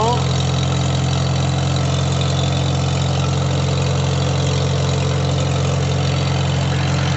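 An IH 120 lawn mower engine runs with a loud, steady, close drone, sounding strained but unbroken throughout.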